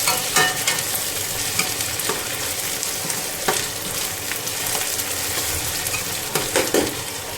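Chillies fry loudly in hot oil for a Punjabi kofta curry, with a continuous close sizzle and scattered spoon scrapes and clinks against the pan.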